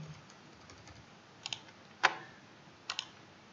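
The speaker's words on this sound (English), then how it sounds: "You can use the keyboard to nudge shapes around." Three sharp computer keyboard keypresses tap out at irregular intervals during graphic design work, each a crisp close click standing alone over a quiet background hiss.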